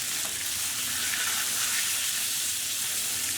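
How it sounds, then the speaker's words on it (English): Chicken breast fillets sizzle steadily in a hot pan, a continuous close, bright frying hiss with no voices. "all we're doing is cooking our breast fillets for a couple of minutes on each side until they're nice and brown"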